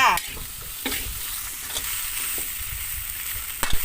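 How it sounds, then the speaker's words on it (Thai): Kaffir lime leaves being stir-fried in a pan for a Thai chili-paste fried fish ball dish, with a steady sizzle, scraping of the spatula stirring and a few sharper clatters near the end, close by with no talk. "ตามด้วยใบมะกรูดเลยนะคะ ใบมะกรูดค่ะ ผัดให้เข้ากันค่ะ"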